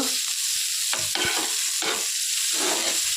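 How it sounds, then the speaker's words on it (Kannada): Marinated prawns fry in hot ghee for a ghee roast, giving a steady close sizzle broken by a few scraping stirs of a spatula against the pan, with no talking. "ಮ್ಯಾರಿನೇಷನ್ ಮಾಡಿಟ್ಟಂತ ಎಲ್ಲ ಫ್ರಾನ್ಸನ್ನು ಹಾಕುವ ಹಾಕಿದ್ದನ್ನು ಎರಡು ಮೂರು ನಿಮಿಷ ತುಪ್ಪದಲ್ಲಿ ಫ್ರೈ ಮಾಡಬೇಕು"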